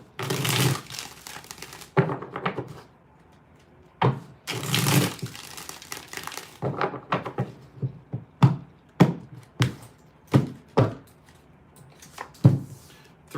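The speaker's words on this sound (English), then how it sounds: "2 more shuffles here." Tarot cards being shuffled by hand during a reading. Close, crisp riffling bursts alternate with quieter gaps and are followed by a series of short snapping taps.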